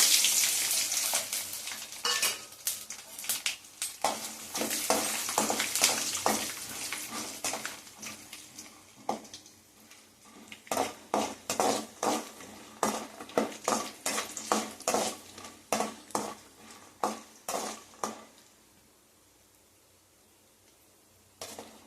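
Oil sizzles and crackles steadily as peanuts, lentils and cumin fry while a spoon stirs and scrapes the pan, the frying fading into quieter, spaced stirring strokes toward the end.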